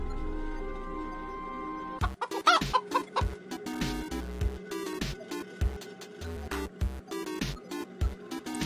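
A giant mutant chicken clucks in loud, choppy bursts that break in after a stretch of steady music, the jerky cluck pattern repeating quickly under a continuing musical backdrop.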